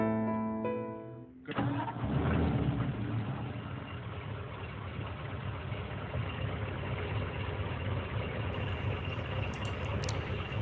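1951 Ford F1 pickup with a freshly rebuilt engine and heavy blow-by, cranking and catching after a brief lead-in, then settling into a loud, even idle that runs on alone.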